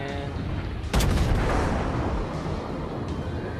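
Warship main guns firing in World of Warships, aboard the Atlanta: one heavy, booming salvo bursts out loud and close, then rolls into a long rumbling decay over the ambient sea noise.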